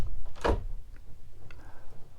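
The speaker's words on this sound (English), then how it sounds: "close the door we've just come in" A cabin door swings shut aboard a 2004 Sealine S48 motor yacht, giving one solid, close thud with a short rattle, then a quiet interior with faint clicks.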